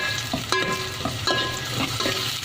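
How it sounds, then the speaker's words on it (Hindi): Chopped onions stir and fry in hot cooking oil in a pan for keema aloo, a steady sizzle broken by several sharp scrapes and clinks of the spoon against the pan, close and with no talk. "अब इसमें शामिल करेंगे ये कटी हुई प्याज, इन्हें मिक्स कर लेंगे"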